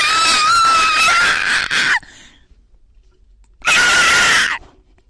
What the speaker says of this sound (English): internal screaming, external screaming.